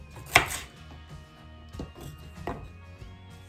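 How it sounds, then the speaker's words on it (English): A kitchen knife slices through celery on a cutting board, one sharp crisp cut followed by a couple of softer knife taps, close and isolated in a quiet room. "Our celery, I just like to slice down the middle"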